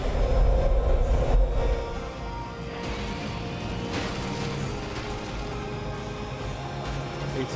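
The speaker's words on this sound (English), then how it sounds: "Spoke too soon, train does not stop." Train in Call of Duty Advanced Warfare racing along the track, a loud continuous rumble and rattle of rail cars, heavier at the start then steady.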